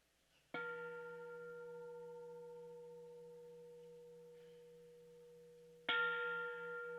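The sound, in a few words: gong rung three times at a ceremony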